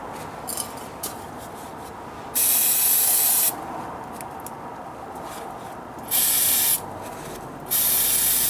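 Aerosol can spraying onto tractor parts indoors, three loud sustained hissing bursts of about a second each separated by quieter handling and rubbing noises.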